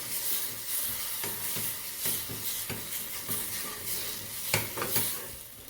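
A spoon stirs cheese sauce with onion in a hot pan, soft sizzling and repeated scraping strokes at an irregular rhythm, close and fairly loud, with no talking.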